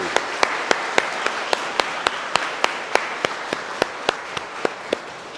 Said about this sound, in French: De tout cœur, on peut se mettre d'applaudissements